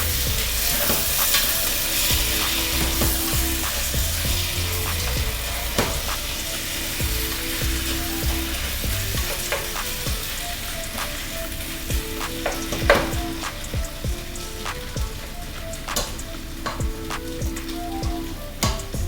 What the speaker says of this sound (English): let's throw the beef around some more